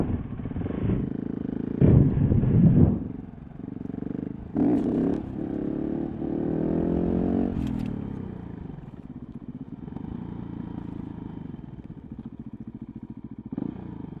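Motorcycle engine during wheelie practice, revving in bursts with rising and falling pitch, a loud throttle blip near the start, then a steadier idle-like drone with occasional clatter.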